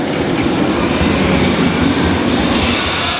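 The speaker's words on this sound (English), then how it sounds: "the train is coming off" A roller coaster train at Universal Orlando rumbles steadily along its track, a loud continuous roar with faint rhythmic clatter and no voices throughout.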